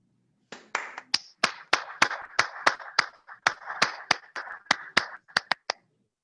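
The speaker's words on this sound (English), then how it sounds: "Est-ce qu'on peut applaudir une fois de plus?" Applause at a Central Africa regional awards ceremony, heard as a sparse run of distinct, crisp claps from a small audience, fairly close and loud, with no talking over it.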